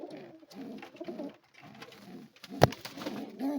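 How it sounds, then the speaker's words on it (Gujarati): Soft, repeated cooing from a group of pigeons gathered in their roost, faint and close, broken by one sharp knock near the end. "હું બધા કબૂતરને બહાર લઈ લઉં."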